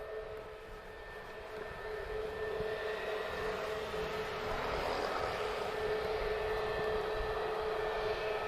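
An Airbus A320neo at Lisbon Airport gives off a steady jet whine and roar that swells gradually. It is heard from a distance as a continuous, moderately faint drone with no talk.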